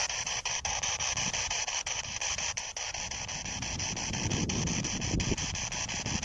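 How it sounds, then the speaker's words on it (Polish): Gusts of wind buffet the microphone, a rough low rumble that swells and dips continuously, with faint radio-like hiss in the background. "Przepraszam za wiatr, ale taka pogoda teraz jest"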